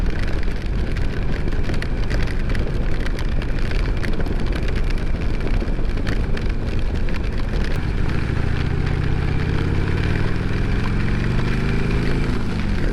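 Heavy rain pours down on the road as a loud, constant hiss with no pauses, and a low, rising engine-like tone swells in toward the end.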